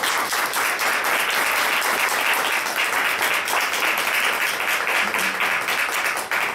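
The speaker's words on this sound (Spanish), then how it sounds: "Yo quiero de verdad que le damos un fuerte aplauso" Sustained applause from a conference audience welcoming a speaker, dense and steady clapping filling the whole stretch at fairly loud level.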